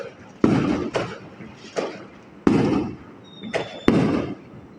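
A nearby fireworks show, with about six loud sharp booming bursts at irregular intervals, each followed by a brief crackling decay, close and powerful.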